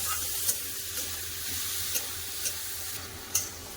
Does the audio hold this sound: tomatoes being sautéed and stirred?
yes